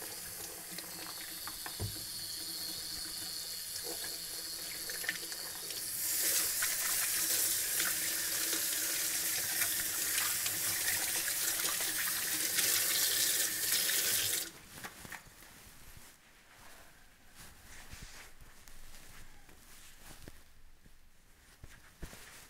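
Kitchen tap running into a sink while hands are washed during duck butchering, a steady hiss of water that grows stronger midway, then cuts off, leaving quiet handling sounds and faint footsteps.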